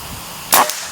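A single sharp, close crack from an FX Airguns OD 38 PCP air rifle breaks a quiet outdoor background, with a short echoing tail.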